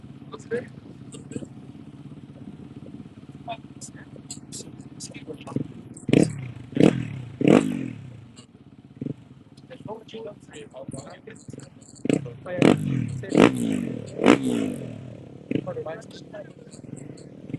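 Rally motorcycles at a 2025 Abu Dhabi Desert Challenge Stage 5 bike start, engines bursting into sharp revving several times over a low idle, with people talking throughout.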